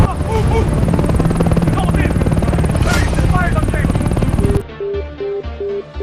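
A helicopter in flight, its continuous rotor drone steady and loud for most of the stretch before cutting to quieter, different sounds near the end.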